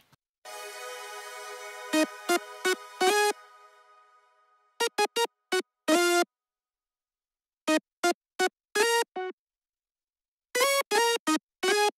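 Lead-style synth for the hook of a smooth hip hop beat: one long sustained bright tone fading out, followed by bursts of short staccato stabs in rhythmic groups separated by silence.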